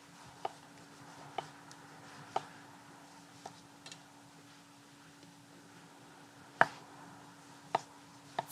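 A sharp knife slices through ripe tomatoes outdoors, with sparse crisp cuts and taps against a board at irregular intervals over a quiet background hum.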